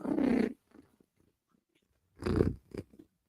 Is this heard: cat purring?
yes